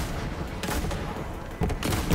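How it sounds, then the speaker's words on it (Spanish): Dense, continuous gunfire from several weapons in the Borderlands 3 video game during co-op play, with rapid bursts and booming shots layered into a loud, noisy barrage. "se oyen disparos y yo no veo a quién dispara"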